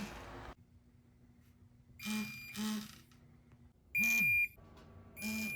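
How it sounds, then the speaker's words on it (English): Several short electronic beeps from a digital Snap-on torque wrench sound in a quiet workshop while tightening bolts during Honda CBR600 F4i fork seal service, a few in quick succession and one longer, higher tone among them. "Once we get done with the symphony of torque beeps"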